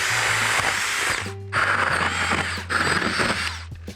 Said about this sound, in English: the first step would be to drill the dowel hole through the globes